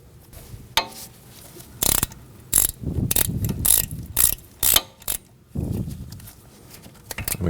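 Sharp ratchet clicks come in quick bursts as a bolt is tightened on a Honda Pilot steering knuckle, close and crisp, with softer handling noise between strokes.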